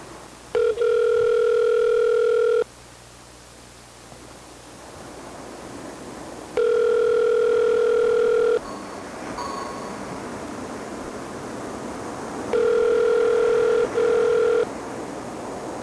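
A telephone rings three times in long, evenly spaced electronic bursts with quiet gaps between them, just before an answering machine picks up.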